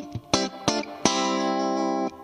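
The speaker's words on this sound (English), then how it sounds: "It's known for having a bright, clean, twangy kind of sound like this." An electric guitar plays through a Fender Super Sonic tube amp on its Vibrolux channel, giving bright, clean, twangy tones: a few short plucked notes followed by a sustained ringing chord.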